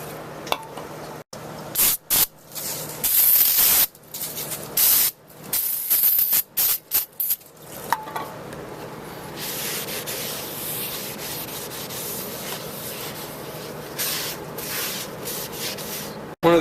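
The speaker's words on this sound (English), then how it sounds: "be sure to do a quick cleaning of your new rotors before you put them on" Rubbing and spraying on new Acura MDX brake rotors being cleaned before installation: bursts of brake-cleaner spray and wiping strokes, close and fairly loud, then a steady hiss of continuous spraying or scrubbing with no talk.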